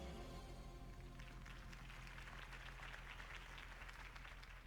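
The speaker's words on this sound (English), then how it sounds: "could have heard that applause" Crowd applause after a political campaign speech for Harvey Dent in the game Batman: The Telltale Series, a broad continuous wash of clapping over a low rumbling bed, steady and moderately loud.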